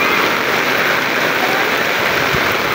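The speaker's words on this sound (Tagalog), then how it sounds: "Ang lakas na ng ulan guys." Heavy rain pours at a terminal in Biliran, a dense, steady roar of water hitting surfaces that fills the scene without pause, loud and close, with no voices.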